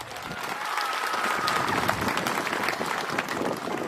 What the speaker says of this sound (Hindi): थोड़ा खड़ा हो जाओ विद्युत को थोड़ा ताली दे दो।